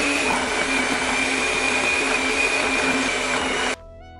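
An Andrew James electric blender whirs loudly and steadily at close range while blending hair butter, then cuts off abruptly near the end.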